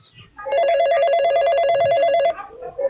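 A telephone rings loudly and steadily with a warbling electronic tone for about two seconds, close and alone, as a call is placed to a village head, with faint voices or movement before and after.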